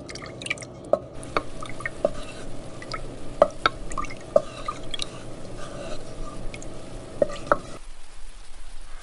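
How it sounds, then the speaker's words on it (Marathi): Ginger garlic paste fries in a pan for hotel-style pav bhaji, a close, continuous sizzle with sharp popping drips and stirring taps scattered throughout before cutting off near the end. "एक चमचा आलं लसणाची पेस्ट आणि ती सुद्धा छान परतून घेऊयात।"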